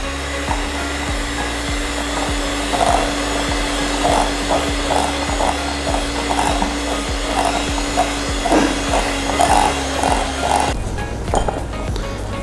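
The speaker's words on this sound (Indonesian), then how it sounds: "Mixer lagi sampai semua tercampur rata." An electric hand mixer churns chocolate cookie dough with chopped almonds, a steady motor whine with rhythmic scraping thumps as the beaters work the thick batter, running continuously and close up.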